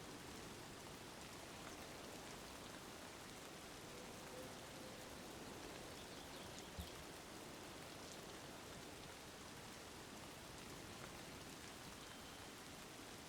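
Heavy rain pours down steadily in a dense, unbroken hiss from start to finish, with a few faint drop splashes and no voices.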